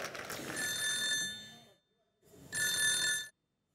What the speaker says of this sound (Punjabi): ਇਹ ਫੋਨ ਕਿਹਦਾ ਵੱਜ ਰਿਹਾ?